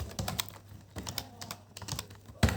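Fingers tap on a computer keyboard in quick, irregular bursts of sharp clicks, close by, ending with a louder key strike, and no one speaks.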